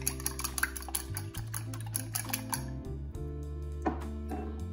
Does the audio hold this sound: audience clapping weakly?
no